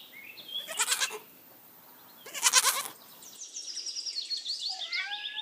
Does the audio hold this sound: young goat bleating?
yes